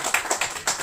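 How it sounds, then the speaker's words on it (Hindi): A few claps from an audience before a recited story, sparse and uneven in under a second, fairly close and without talk over them. "थैंक यू ठीक है, ताली बजा दे।"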